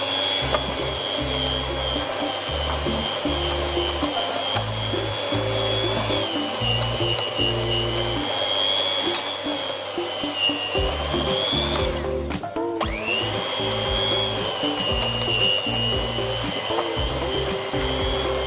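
An electric hand mixer on its lowest speed creams ghee with powdered sugar for an Egyptian pasta flora dough, a steady loud motor whir with a grinding, rattling churn that runs throughout and dips briefly midway.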